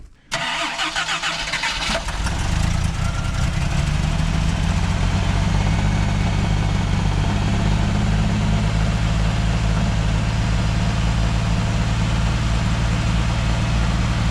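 A Jeep CJ7 engine cranks briefly, catches and settles into a loud, steady idle that runs on close by without speech.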